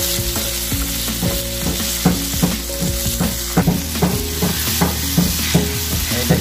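Onion stalks fry in a pan with a loud, steady sizzle, broken by frequent rhythmic scrapes and knocks as they are stirred, with no voices over it.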